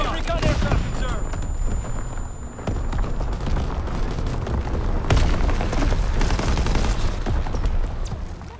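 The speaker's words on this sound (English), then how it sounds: "Incoming enemy artillery." Artillery blasts and rapid gunfire in Call of Duty: WWII fill the scene, with dense, loud booms and fusillades rolling continuously alongside game voice callouts.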